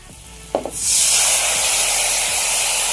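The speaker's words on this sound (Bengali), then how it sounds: "এবার আমি যেটা আলু রেখেছিলাম ওই আলুটা এর ভিতরে দিয়ে দিব।" Raw potatoes hit a pan of fried onions and set off a sudden, loud sizzle that keeps hissing steadily at close range after a few quiet taps and clatters.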